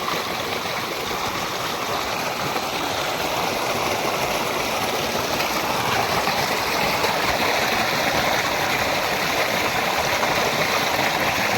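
Fast-flowing water rushes over rocks at the Yogi Yogiani waterfall near Nayagarh, a loud, steady, unbroken roar of stream noise with no pauses.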